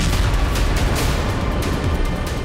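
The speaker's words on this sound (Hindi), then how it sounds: "पहले एक जोरदार धमाका हुआ और फिर कई छोटे छोटे ब्लास्ट होने लगे।" A railway track in Ukraine is blown up during the Russia-Ukraine war, giving a loud, dense, continuous roar of rumbling, booming blasts with no pauses or speech.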